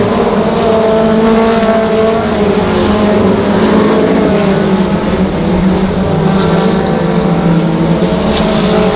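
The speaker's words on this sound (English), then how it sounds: "Tyler Webb and Dustin Sutherland still battle it out as they hustle hard on down to turn number 3 out of turn number 4" Race cars roar around Monarch Motor Speedway during a close battle for the lead, producing a dense, continuous engine drone that rises and falls as the cars pass through the turns, loud throughout with no clear speech.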